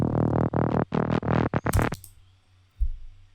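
Choppy FM synth bass line from a track, gritty distorted notes pulsing in quick bursts with a bright rising blip near the end, then a low hum and one deep thump as it fades.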